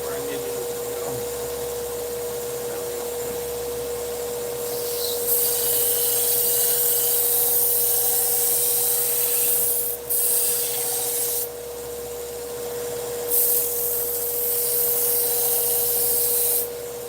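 Knife edge being sharpened with a light touch: soft rubbing and scraping strokes on an abrasive, with a steady hum underneath and brighter swishes at intervals.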